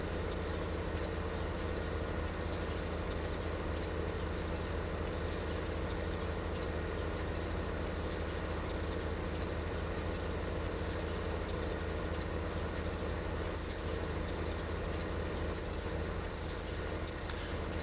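Tractor engine in Farming Simulator 15 idling and running steadily, a continuous low droning hum with a broad even noise floor that holds at a constant level throughout, with no voices over it.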